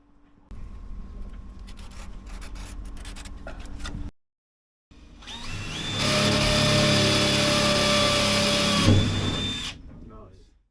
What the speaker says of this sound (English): Now that the corners are drilled